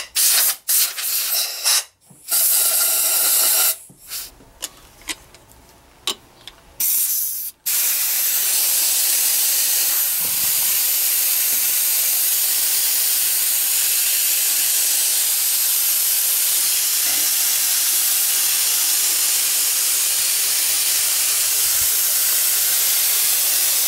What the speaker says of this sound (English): You especially need to blow up this smaller tube, because that'll clear out the chamber.